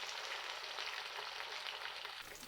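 Fish fry in hot oil with a dense, even crackling sizzle that holds steady at a moderate level, easing slightly at the very end.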